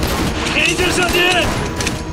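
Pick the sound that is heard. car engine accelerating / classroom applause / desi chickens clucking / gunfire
gunfire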